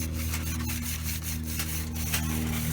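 Brush scrubbing the chain of a Suzuki GSX-R 750 motorcycle: steady, close, rhythmic back-and-forth rasping strokes over a faint low hum, with no talking.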